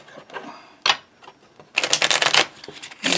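Bursts of riffle shuffling foil-edged playing cards, a short flutter followed by a longer rapid crackling riffle, close and crisp.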